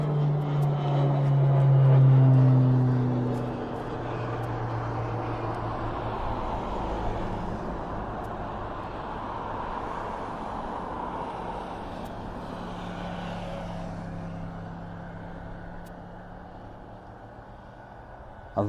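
A jet aircraft departs East Midlands Airport in the evening, a loud, broad engine roar that swells early, then settles into a long, steady rumble slowly fading with distance.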